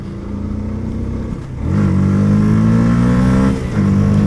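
A Yamaha YZF R125 125cc motorcycle pulls away hard and loud at close range, its engine note climbing steadily in pitch. A brief shift drops the note before it rises again.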